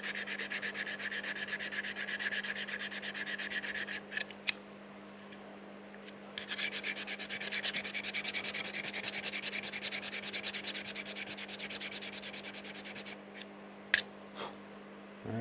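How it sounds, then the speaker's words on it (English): Sandpaper rubbing against the trimmed edges of a model airplane fuselage, a close, steady scratchy hiss in long continuous strokes with brief pauses near four and thirteen seconds, no talking. "if they're real close, just go ahead and just sand them off"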